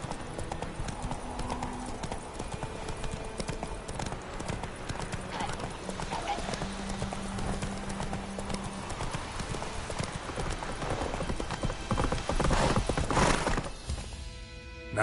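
Steady, close hoofbeats from Roach, the horse in The Witcher 3 video game, clopping in a fast rhythm throughout, with game music and brief voices mixed in and a louder burst near the end.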